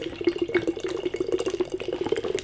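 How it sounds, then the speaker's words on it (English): Nitro imperial pancake stout being poured hard into a glass, producing a loud, steady rushing, bubbling gush with rapid fluttering pulses. "I've never poured a beer this rigorously in my life."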